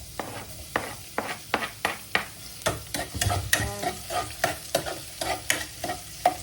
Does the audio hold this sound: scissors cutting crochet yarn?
no